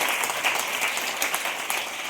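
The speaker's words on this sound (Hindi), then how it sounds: "एक बार इनके लिए भी जोरदार ताली होनी चाहिए।" A training-session audience claps in a brief, steady burst of applause, close and moderately loud.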